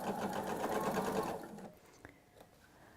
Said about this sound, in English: We've sewn the seam